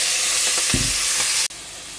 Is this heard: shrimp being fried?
yes